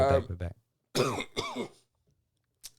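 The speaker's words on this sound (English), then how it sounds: "sorry for the coughing again" A few throaty coughs and throat-clearing sounds in short bursts, close to the mic, followed by quiet and a faint click at the end.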